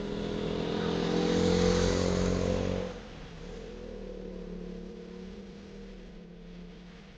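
A motorcycle ridden through foggy terrain gives a steady, droning engine note that swells loud for a few seconds, then drops abruptly to a quieter, rougher hum with wind rush.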